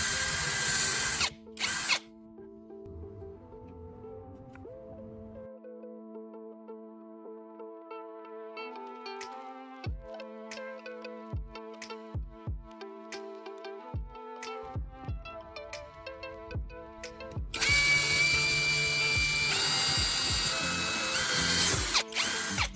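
Power drill driving two screws through a small wood block into a larger board, heard as sustained whirring bursts with a rising motor tone and sharp clicks, close and alone against quiet.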